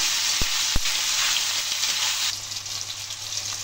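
Tomatoes and onions frying in a pan for chana masala with keema, a loud continuous sizzle with a couple of sharp clunks from stirring near the start.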